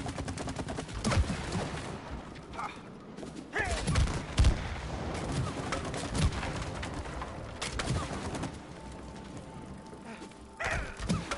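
Gunfire in the video game It Takes Two, several sharp shots scattered among busy game sounds and music, fairly loud with no talk over it.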